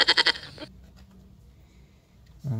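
Bleating goat from a toy farm animal set, a few close rapid pulsed bleats at the start, then near silence before a low thump at the end.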